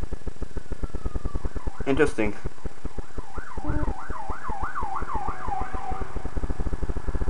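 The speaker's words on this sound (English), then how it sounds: "Hear that siren?" A fire engine siren wails outside, rising and falling repeatedly in the distance, under a steady rhythmic clicking, with a brief spoken word partway through.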